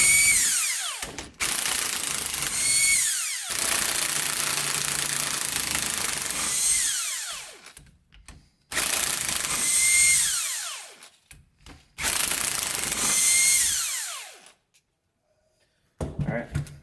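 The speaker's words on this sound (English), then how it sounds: "I'm going to show you how to remove this ring gear. Same thing, 17 mil. Helps if you have a impact." Impact wrench with a 17 mm socket loosening Loctited ring gear bolts on a Nissan 350Z or G35 differential, several long loud whirring, hammering bursts separated by short pauses, the last one brief.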